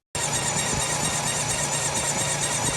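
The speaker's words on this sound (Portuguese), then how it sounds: "Correia." A car engine drive belt squeals steadily and loudly over the engine's idling rumble, a continuous high-pitched wavering screech heard up close without any pause.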